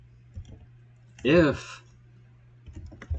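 Scattered clicks of fingers on a computer keyboard while coding sound close and dry in a few short bursts. A brief spoken word interrupts them midway.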